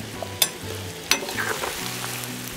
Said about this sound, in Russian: И продолжаем обжаривать еще 10 минут.